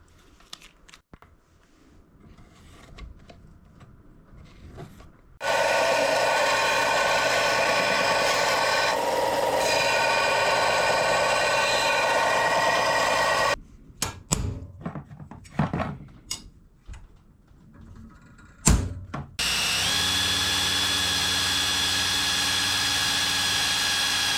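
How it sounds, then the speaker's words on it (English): A drill bores holes in a Honda ATC 200X ATV seat pan, with two long, loud, steady whirring bursts separated by a stretch of clattering handling and taps, all close up. "Got our holes drilled."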